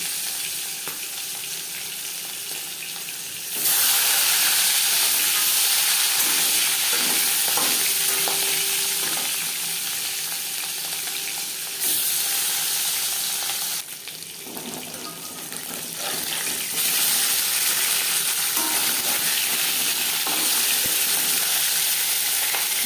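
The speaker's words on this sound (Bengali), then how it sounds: "মাছ ভাজবার জন্য তিন চার চামচ রিফাইন অয়েল গরম করে নিয়েছি এবার দিয়ে দেবো" Hot refined oil hisses and sizzles loudly and continuously as katla fish fries, the crackle surging in bursts, with occasional clinks from the pan.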